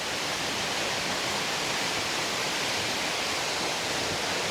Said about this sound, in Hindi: ये सुंडी वाटरफॉल्स महाराष्ट्र राज्य के कोल्हापुर ज़िले के चंदगढ़ तालुक के सुंडी गांव के नज़दीक स्थित है।